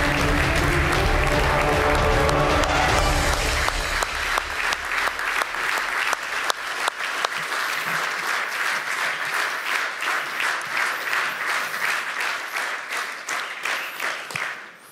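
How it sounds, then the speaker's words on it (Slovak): A large audience applauds warmly at the Slovak ice hockey awards gala as a new Hall of Fame member is honoured. A loud, dense wall of clapping rolls on for many seconds, then gradually thins and fades. "To bol aj potlesk pre teba,"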